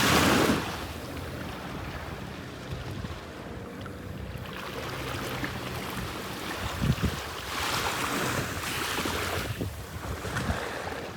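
Ocean waves wash in on a North Naples, Florida beach in the morning, a broad rushing surge that swells and recedes more than once under steady wind noise on the microphone.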